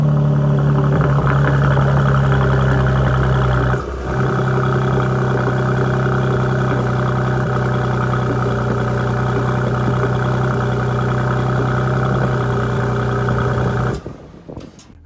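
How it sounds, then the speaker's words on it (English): A 2020 Mercedes-AMG C43 sports sedan with a performance exhaust idles steadily with a deep, throaty exhaust rumble, loud and close, holding constant before cutting off near the end. "We'll start up the car and you can see here how the exhaust sounds"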